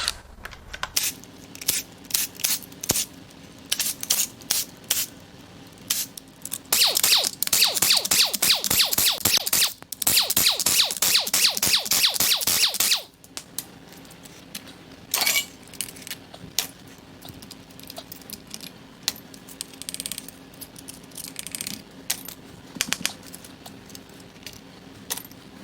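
Metallic clinking, scraping and rattling as the crankshaft is pulled from a blown GM 6.2L V8 engine of an L9H Escalade/Denali during teardown, with a dense burst of rapid clattering midway and scattered knocks before and after.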